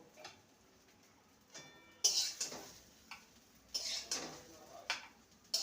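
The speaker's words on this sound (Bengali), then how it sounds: "এটা রেডি হয়ে গেছে এবার একটি পাত্রে নামিয়ে নেব" Cooked kakrol (spiny gourd) dish being scraped and transferred into a pot, with a few sharp utensil scrapes and clinks against metal in short bursts, close and fairly quiet.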